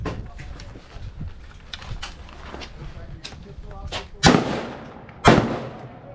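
Two loud, sharp gunshots from a carbine on an outdoor shooting range during a carbine-to-pistol transition drill, cracking out about a second apart near the end, with instructions and background chatter filling the quieter stretch before them.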